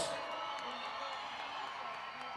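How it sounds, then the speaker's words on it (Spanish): A crowd at the 137th anniversary celebration of Río Gallegos claps and cheers steadily, a wash of applause with a few whoops rising out of it, heard from a distance. "Arriba esos aplausos a la San Iván."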